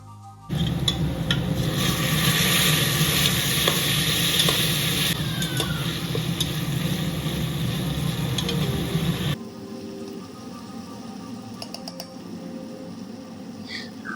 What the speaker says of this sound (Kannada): ಟೊಮೆಟೊ ಫುಲ್ಲು ಫ್ರೈ ಆಗಿ ಸಾಫ್ಟ್ ಆಗಬೇಕು.